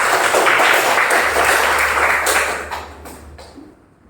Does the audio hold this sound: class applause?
yes